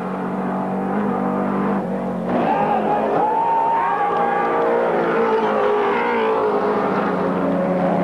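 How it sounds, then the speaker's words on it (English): A Holden VN Commodore race car powers down the mountain at Bathurst during the 1991 Bathurst 1000 shootout, its engine note rising and shifting loudly as it passes, with faint crowd and commentary under it. "For a big bulky car, the VN Commodore is certainly quick coming down the mountain, isn't it, Neil?"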